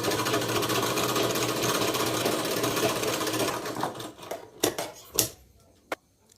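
A sewing machine stitches a folded hook strip for a blouse, running in a loud, steady whir for several seconds before slowing into a few separate clicks and stopping.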